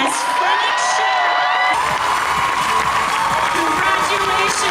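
At a cosplay contest during Emerald City Comicon 2023, a crowd cheers, whoops and applauds a winner, loud and sustained, after an announcer's voice at the start.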